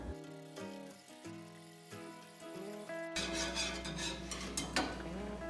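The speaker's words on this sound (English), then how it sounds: "But I'll try to kind of stir it now" A spoon stirs yeast into an apple champagne mixture in a pot, making a scraping, swishing clatter in the second half of the clip after a stretch of soft music.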